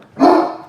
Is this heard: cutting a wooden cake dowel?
no